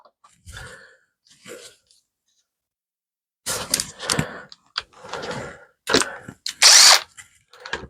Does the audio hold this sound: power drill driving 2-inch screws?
yes